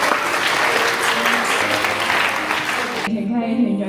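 An audience at a joint school Christian fellowship gathering in Hong Kong applauds steadily for about three seconds, a dense clatter of many hands that then cuts off abruptly.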